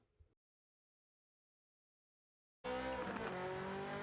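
Ferrari F40 on a race track in Sardinia, silent at first, then the engine bursts in abruptly and holds a loud, steady, harmonic-rich roar with hints of tire noise until the end.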